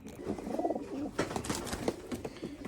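Several pedigreed Turkish posta pigeons, blue and grizzle racing birds, coo in a loft in soft overlapping rolling calls, close by and fairly steady, with faint rustling and no talk.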